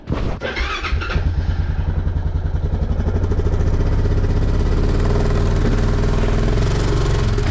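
A four-wheeler ATV engine starts and runs loud and close, settling into a steady rough idle with a clattery mechanical edge throughout.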